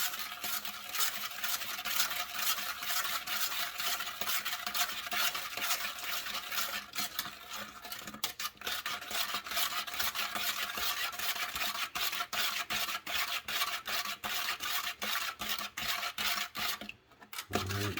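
Spoon stirring sugar, heavy whipping cream and vanilla together in a bowl for homemade ice cream, a steady close scraping and rubbing that runs continuously with quick repeated strokes, no voices over it.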